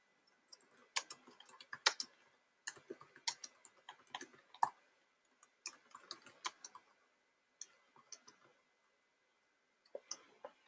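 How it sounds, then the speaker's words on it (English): Typing on a computer keyboard during page admin setup, heard as clusters of quick, close clicky keystrokes in short bursts separated by brief pauses, with no talking. "I am just going to type a little bit just to kind of get something on the page."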